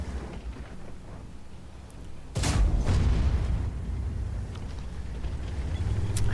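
A tank cannon round from a T30 match in World of Tanks strikes the gun mantle with a sudden heavy boom partway through, rising over a low engine rumble that continues afterward.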